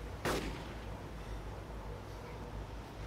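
One loud rifle shot in the video game DayZ cracks out near the start, then rolls into a long, fading boom over low wind.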